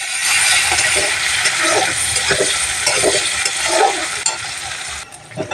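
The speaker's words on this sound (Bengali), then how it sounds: "পেঁয়াজটা লাল লাল ভাজা হয়ে গেছে" Onions with a couple of green chillies fry in hot oil in a pan, a steady loud sizzle broken by scraping stirs and light metal clinks, with no voices.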